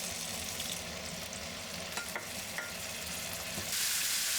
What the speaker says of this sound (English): heat up oil in a pot on high heat. Stir-fry green beans.